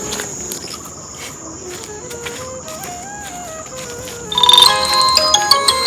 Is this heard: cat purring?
no